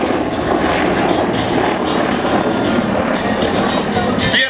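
Helicopter engines and rotors roar steadily and loudly through an aerobatic display at the MAKS 2017 air show, including a Mi-28 flying solo, with a broad continuous wash of noise and no talk.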